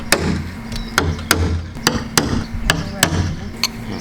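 Sharp metallic hammer taps on a center punch at a steady, fairly quick pace, about eight blows, close and crisp, with a low hum underneath.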